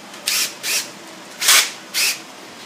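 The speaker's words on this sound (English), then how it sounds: "We're going to drill a hole." Power drill boring a small pilot hole near the wheel well of a Willys jeep, with four short bursts of whirring in an uneven rhythm, the third the loudest, close by and with no voices.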